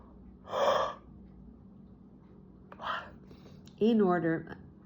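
A person yawns during a therapy session. Three breathy yawns come close by; the last is the longest and carries a voiced, wavering groan.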